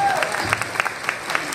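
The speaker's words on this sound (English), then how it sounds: "Let's give a great big round of applause, guys." A crowd at a stage hypnosis show gives a round of applause, scattered claps rising over a voice that trails off at the start, fairly quiet and brief.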